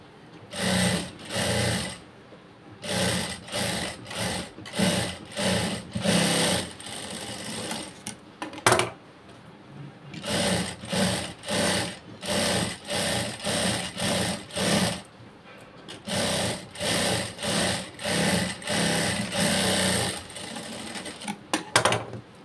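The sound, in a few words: sewing machine stitching blouse seams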